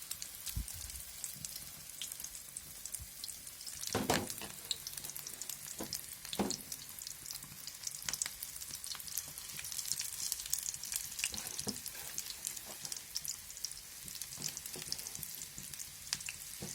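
Egg frying in hot oil in a pan, giving a steady close sizzle dotted with sharp crackles and spitting pops throughout, with no talking.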